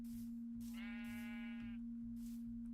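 A sheep in a video game lets out a single clear bleat over a steady electronic tone and rhythmic, soft game background sounds.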